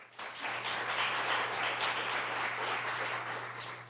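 A crowd at an International Women's Day event applauds in a sustained wash of many hands clapping, starting abruptly and continuing evenly, heard from within the room, with a faint low hum underneath.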